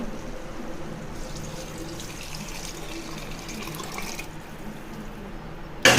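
Cooked dal mixed with tamarind water is poured into a pot of boiled vegetables for sambar, a faint, soft wet pouring and splashing that lasts a few seconds over quiet kitchen background.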